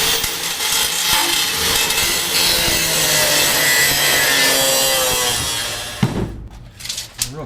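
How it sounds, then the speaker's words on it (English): Sheet metal on a car being trimmed for a time attack roll cage tube, a loud continuous rasping, sawing cut that runs steadily for several seconds before stopping, followed by a few brief clanks. "I'm going to need to trim off some more of this sheet metal"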